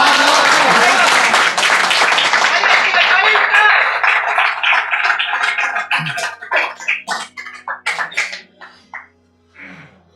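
An audience claps at a poetry recital. Dense, loud applause at first gradually thins out into scattered individual claps that fade toward the end.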